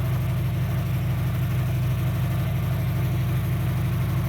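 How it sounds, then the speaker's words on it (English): A 2003 Dodge Neon with the 2.0 engine runs rough with misfires, a close, steady low idle with a lumpy pulsing rhythm throughout and no talk. "We'll see if it makes a difference in the running of the engine."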